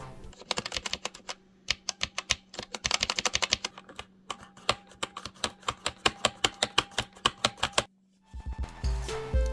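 Rapid clacking of red mechanical key switches on an all-button game controller, close and crisp, in irregular bursts with brief pauses, ending with a short rustle.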